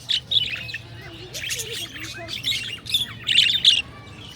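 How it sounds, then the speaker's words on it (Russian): Budgerigars and other parrots at a zoo squawk and chirp in bursts of shrill, busy calls, close by and fairly loud over a low background hum. "Птички, попугайчики."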